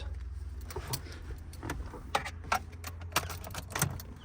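A Fiat 500 rebuilt after a crash is started with the key: keys jangle amid clicks and ticks, over a low steady engine rumble, with no voices.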